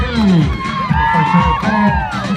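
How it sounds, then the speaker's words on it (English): A large outdoor crowd at a Samoan flag day celebration in Utah cheers and whoops with voices rising together, loud and close, while clapping blends into the roar. "Another big round of applause and a big cheer."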